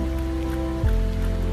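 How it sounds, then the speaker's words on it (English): Steady rain falls outside on a cold 44-degree day, a dense, continuous wash of drops with a low rumbling undertone and no voices. "It's 44 degrees and it's nice and rainy outside."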